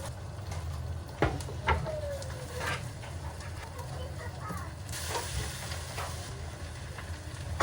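Lentils, onion, garlic, carrot and potato fry in butter and oil in a home kitchen, giving a soft, steady sizzle with a few sharp clinks of stirring, and a voice speaks in the background.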